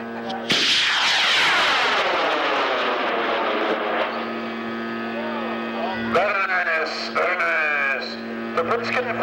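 A high power model rocket motor ignites with a sudden loud blast, followed by a long, roaring, gradually fading launch rush at a rocketry event, with brief voices near the end.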